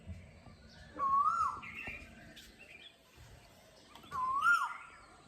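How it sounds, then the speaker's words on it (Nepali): Two bright chirping bird calls ring out about three seconds apart in the morning, each a short rising-and-falling whistle over a quiet, faintly busy background. "कस्तो चौलाहरू बिहानदेखि कराएको छ नि"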